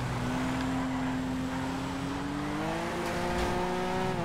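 A drift car engine with a custom sound in the video game GTA FiveM drones steadily, then its pitch climbs as it revs up, close and continuous with no voices.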